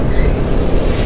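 A truck rumbling past on the road, a dense, loud, low roar heard up close from a moving vehicle on the highway.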